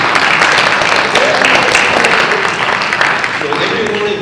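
Audience applause at a local candidates meeting for borough mayor, assembly and council races, a dense steady clatter of many hands clapping throughout at fairly close range, with no speech over it.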